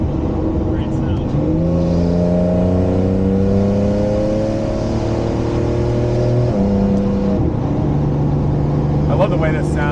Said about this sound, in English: Listen to those turbos come in.